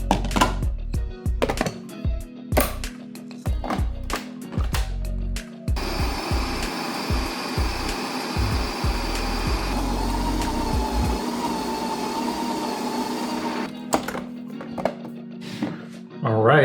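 A Ninja Creami machine blends Douglas fir ice cream, its motor whirring in a steady loud drone for several seconds, framed by knocks and chopping-like clatter before and after, with a person talking at times.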